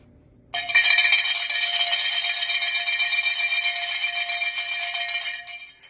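A bright metallic bell rung for a Horseheads football Blue Hammer Award rings continuously and loudly for several seconds after a brief quiet start, its shimmering tone rattling on before fading slightly.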